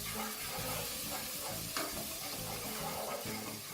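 Minced garlic and ginger fry in hot oil for a Kenyan muthokoi dish, giving a steady close sizzle with soft stirring scrapes throughout and one brief louder clink near the middle.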